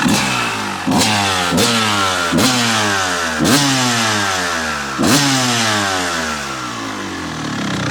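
A 1996 Kawasaki KX250 two-stroke motocross engine, all original and low-hours, is blipped hard about six times at close range. Each rev is a sharp rising snarl that quickly falls back to a ringing, crackling idle.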